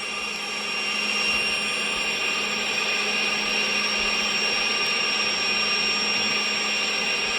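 DC-10 jet engines spool up for takeoff in the Roblox game Cabin Crew Simulator, a loud, steady roar and whine that holds without break throughout.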